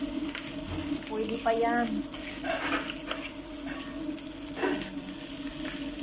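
Leg of mutton being refried in hot oil, a moderate continuous sizzle with a few clinks and stirring noises as a voice speaks briefly over it.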